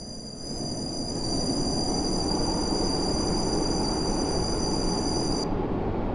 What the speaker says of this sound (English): The train now approaching platform 2.